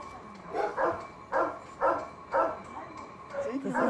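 Murphy, a dog brought in from Romania, gives a run of five or six evenly spaced barks at moderate distance, followed by a faint whimpering yip.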